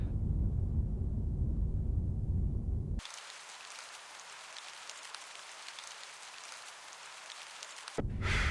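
Rain in England from the video game Her Majesty's SPIFFING: a low rumbling bed gives way abruptly to bright, steady rain hiss, which cuts off and returns to the rumble near the end, with no talking.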